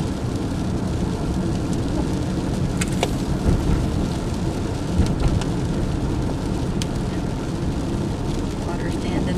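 Heavy rain drumming steadily on a vehicle while driving to town on flooded country roads, a dense continuous roar with a few brief sharper knocks throughout.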